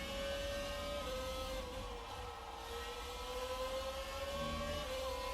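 F1 car engine in the F1 2019 racing game revving back up after a virtual safety car period, a steady high-pitched whine rising gradually in pitch, loud and continuous throughout.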